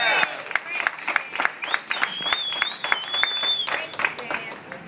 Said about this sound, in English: applause for the whole staff here.